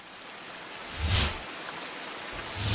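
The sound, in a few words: heavy rain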